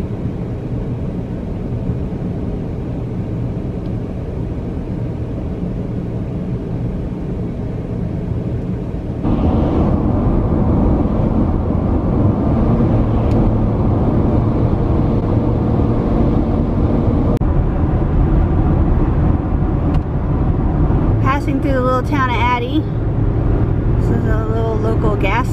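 Steady low engine rumble and road noise from inside a truck on the road, growing louder partway through as it picks up speed, with faint higher clatter near the end.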